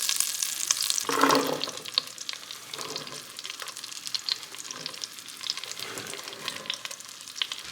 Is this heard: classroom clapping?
no